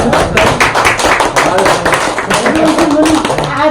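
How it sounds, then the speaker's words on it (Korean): Audience members at a suicide-prevention lecture clap together in a dense, loud burst of rapid hand claps lasting a few seconds, close and continuous. "다 함께 박수 한번 쳐주세요."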